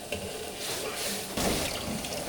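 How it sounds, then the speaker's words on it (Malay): Water heats to a boil in a cooking pot, a steady rushing hiss with bubbling that swells louder partway through. "tunggu air tu gelegak dulu dah"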